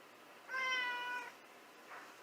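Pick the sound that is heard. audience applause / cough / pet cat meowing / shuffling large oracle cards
pet cat meowing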